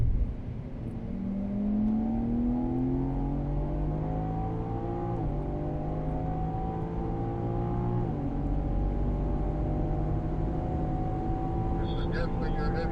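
A BMW lapping the Circuit of the Americas race track, its engine droning loud and close with rising revs through the gears, a brief dip at each shift, then steady high-speed running.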